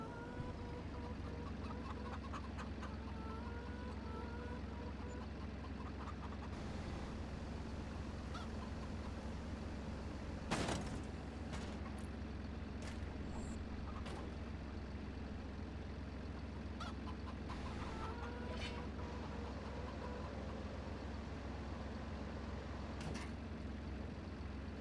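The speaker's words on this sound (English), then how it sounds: "Yes, you heard chickens there, Artem. We have chickens over there." Chickens cluck and call intermittently on a farm in Farming Simulator 25, faint and somewhat distant over a constant low engine-like hum, with one brief louder burst midway.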